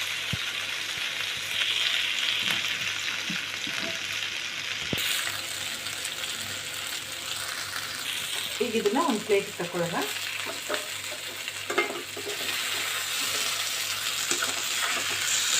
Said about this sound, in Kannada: ಈಗ ಇನ್ನೊಂದು ಸೈಡಲ್ಲಿ ತಿರುಗಿಸ್ಕೊಂಡು ಫ್ರೈ ಮಾಡ್ಕೊಳ್ಳೋಣ.